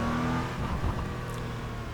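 Porsche Cayman GT4 in iRacing downshifting to second under braking at Laguna Seca, a steady engine drone with a brief blip and rev change partway through, close and continuous.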